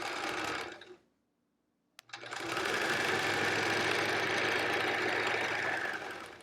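A sewing machine stitches a quilt in steady, loud, rapid runs; the motor whirs briefly, stops for about a second of silence with a tiny click, then starts again and runs continuously to the end.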